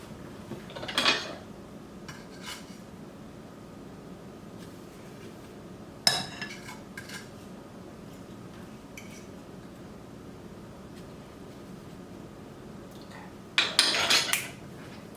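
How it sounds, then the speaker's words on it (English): Pans and cutlery clink and clatter in a kitchen while bacon is drained for a breakfast naan, with a sharp burst near the start, another around six seconds, and a louder cluster of clinks at the end over a quiet background. "You drain this bacon."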